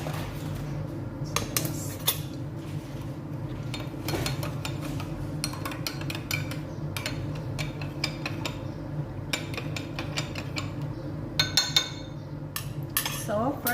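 A metal spoon clinks and scrapes against a bowl, stirring yeast into warm water in a quick, irregular series of taps and clatters heard up close with no talk.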